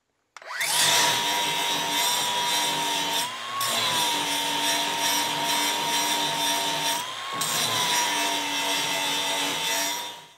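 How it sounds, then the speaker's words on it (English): A steady, high-pitched grinding whine runs continuously, close and loud, dipping briefly twice as the grinder bears into the metal of a clamp-on trailer hitch for a Kubota B2601 compact tractor. "I think we just need to grind it all the way off,"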